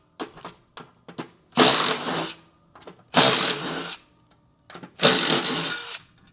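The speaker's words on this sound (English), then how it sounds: "Then take your impact wrench, swap it out for a smaller socket" An impact wrench with a small 10 mm socket removes the four spindle bolts from a John Deere D160 mower deck, giving three loud rattling bursts of about a second each, with lighter clicks and clanks of handling in between.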